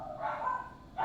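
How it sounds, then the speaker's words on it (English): Faint, muffled barking from pet dogs in the background, a short yappy burst heard at a distance with nothing else over it. "Sorry about my dogs."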